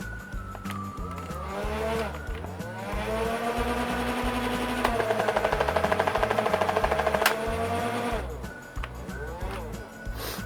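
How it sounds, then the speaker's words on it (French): Motors of a modified Nerf Hyperfire blaster whirring up with rising harmonic tones, holding a steady high whine for several seconds with a rapid rattling pulse midway, then winding down; close and fairly loud. "faut bien sûr enlever la sécurité pour que le moteur se lance"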